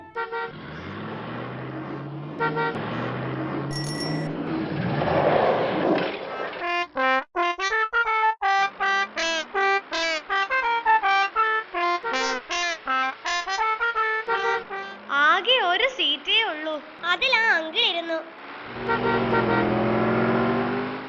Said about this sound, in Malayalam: ബസ് വരുന്നുണ്ട്